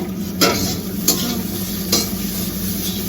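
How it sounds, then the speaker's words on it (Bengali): Maggi instant noodles frying in a hot pan make a steady, close sizzle broken by three sharp scraping stirs of a spatula. "সেজন্য ম্যাগি ভেজে দিচ্ছি"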